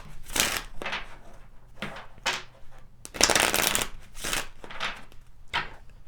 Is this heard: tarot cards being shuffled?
yes